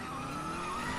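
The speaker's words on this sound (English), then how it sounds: "sound for the F1 cars is awful" An F1 race car in the CSR2 mobile racing game gives a dense, high-pitched engine whine with tire skid, continuous and loud for a second with no talk.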